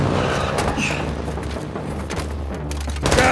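Intense gunfire in a Call of Duty: Modern Warfare II campaign battle, rapid overlapping shots and heavy booming impacts, loud and sustained, with shouted voices mixed in underneath.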